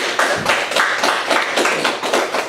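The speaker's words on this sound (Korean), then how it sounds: "우리 하나님께 박수 한번 올려줬으면 좋겠습니다." A church congregation claps together in a loud, steady rhythm, with even beats about three per second and no talking over it.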